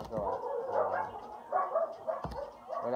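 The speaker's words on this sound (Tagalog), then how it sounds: "huwag napasin yung mga aso" Dogs bark repeatedly at close range in a quick, uneven series of yips and woofs, with a voice speaking faintly underneath.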